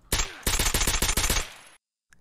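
SVD rifle fire in Escape From Tarkov, a loud, close burst of about six rapid shots in quick rhythm, ending abruptly with a brief faint click after a short silence.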